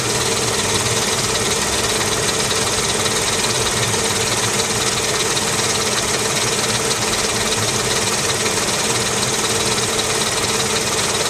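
A car engine idles steadily through the whole stretch, a constant close mechanical hum with a faint, even ticking rattle and no change in speed.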